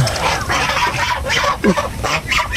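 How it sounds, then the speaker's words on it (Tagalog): A flock of pet turkeys gathering together, their gobbling and honking calls overlapping in a dense, close chorus with bursts of louder cries. "nagkukumpulan na yung mga pabo ko."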